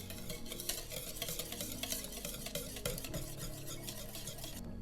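Cake batter with sunflower oil is stirred in a bowl for a homemade berry cake, giving a continuous soft, wet scraping and swishing that repeats steadily throughout, quiet and close, with no talking.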